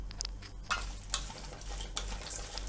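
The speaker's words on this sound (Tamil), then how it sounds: "இப்போ வந்து நம்ம இப்போ பொட்டுக்கடலையை போடுவோம். இதை போட்டு நல்லா வந்து நம்ம கிளறி விடுவோம்." Roasted gram dal and peanuts are stirred in a pan, producing soft repeated scraping and rustling with a faint light sizzle, quiet and close.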